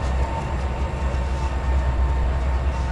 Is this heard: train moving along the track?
yes